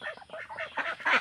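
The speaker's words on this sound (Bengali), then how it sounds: "কত সুন্দর হাঁস।" Ducks raised in a rural setting, several quick close quacks in a row, growing slightly louder toward the end.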